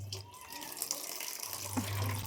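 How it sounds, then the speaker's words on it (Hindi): Water runs from a tap into a bottle in a home, a steady close splashing stream with a low hum, and no one speaking. "तो अभी पानी भर रही हूँ बोतल में"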